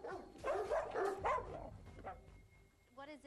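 Several dogs bark and yip in an office where they roam freely, sharp overlapping barks near and fairly loud, with people talking over them throughout.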